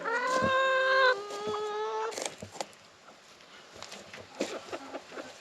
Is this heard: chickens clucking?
yes